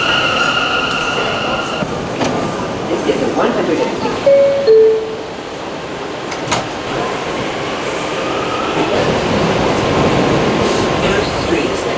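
A New York City subway train in a station, rumbling and clattering loudly with squealing wheels, brief tonal chimes and a steady roar throughout; someone talks and a recorded announcement plays over the noise.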